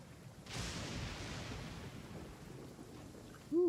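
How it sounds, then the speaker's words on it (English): Thunder in a rainstorm in Genshin Impact: a sudden rumbling crack that rolls and fades over steady rain noise, followed at the end by a brief voice. "Thunder's so loud."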